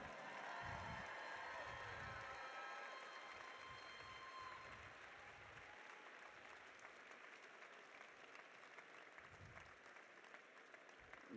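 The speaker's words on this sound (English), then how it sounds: "Give them a round of applause." Sustained applause from the crowd at a regional team competition, honoring the qualifying teams: steady dense clapping with some cheering, holding at an even level throughout the whole stretch.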